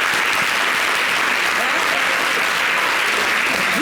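An audience at a comedy show breaks into dense, continuous applause. The clapping is loud and sustained throughout.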